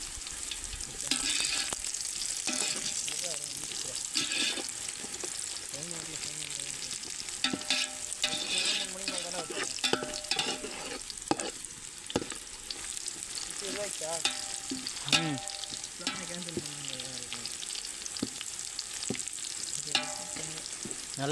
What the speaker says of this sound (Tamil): நல்லா வெங்காயம் பொன் நிறத்தில் வதங்கிடுச்சு.